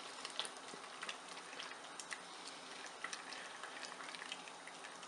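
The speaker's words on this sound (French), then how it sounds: "Je mélange." Chicken and beans with tomato paste are stirred in a Cookeo multicooker. Faint, soft bubbling and sizzling carry small scattered clicks and scrapes from the utensil.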